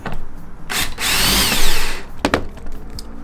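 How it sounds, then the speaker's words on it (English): Close, loud bursts of an electric drill boring a 25/64-inch through hole in wood, a sustained run in the middle flanked by short sharp pulses and clatter. "Drill the through hole"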